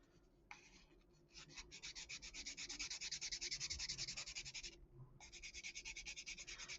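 Fine-grit sandpaper rubs back and forth on a plastic model stand for a U-boat kit, a close rapid rhythmic scratching in quick strokes with one short pause.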